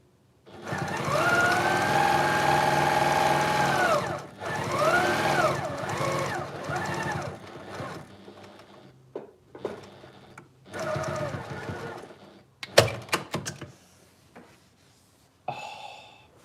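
A sewing machine stitches fabric for a storage pod in several bursts, a long steady run, then shorter stop-start runs with small clicks and handling noises between them, close and moderately loud.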